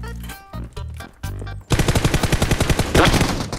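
Gunfire in the Game for Peace mobile battle royale: a few heavy, separate shots first, then a fast, loud burst of automatic fire rattling on steadily for about two seconds, no voices over it.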